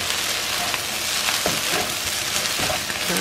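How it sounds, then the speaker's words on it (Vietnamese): Shrimp fried rice sizzles and crackles steadily in a pan, a dense continuous frying hiss with occasional stirring scrapes, close and fairly loud with no talking. "Giờ mình đặt chiên qua cái chảo này."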